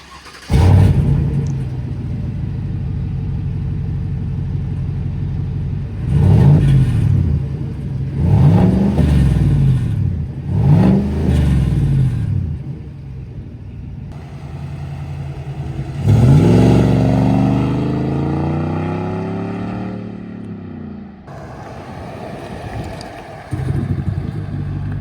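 A 2022 GMC Sierra AT4X with a 6.2-liter V8 and MagnaFlow catback exhaust rumbles loudly at idle, then revs in several sharp bursts and pulls away in a long rising acceleration before a final rev.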